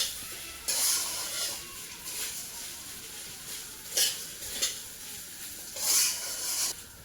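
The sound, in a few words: stirring puffed rice in a kadai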